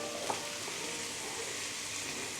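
Spices and salt sautéing in a pan for cauliflower bhaji give a soft, continuous sizzle, even and fairly quiet, close by with no voices.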